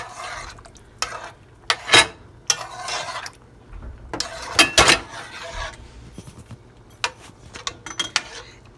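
A spoon clanks and scrapes against a pot while tomato sauce thinned with water and sugar is stirred, in irregular bursts of metallic knocks over a faint background, with no talk.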